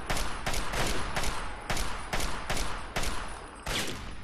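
Gunfire in Fallout 3: a rapid series of about nine loud shots at a steady, slightly uneven rhythm, alone without talk.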